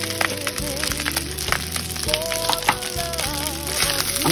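Green onion and ginger sizzle in a hot grape seed oil blend, a close, busy frying crackle with scattered pops, heard over a tonal musical background.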